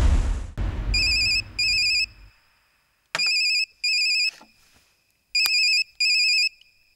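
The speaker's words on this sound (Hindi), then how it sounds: "छोटे एड़ा का फोन है।" A phone ringtone sounds loud and close, ringing in three pairs of bright electronic bursts with short silences between them.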